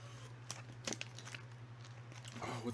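Crunchy sushi roll topped with cheese and jalapeno being bitten and chewed, a few crisp crunches close to the mic over a steady low hum.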